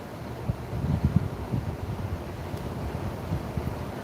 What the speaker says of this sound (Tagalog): Sana tumigil na yung hangin.